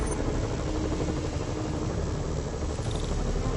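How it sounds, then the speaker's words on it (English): A helicopter in the video game Marvel's Spider-Man, a steady, dense rotor and engine roar that stays loud and constant throughout, with no talk. "Bet I can use those helicopters to swing."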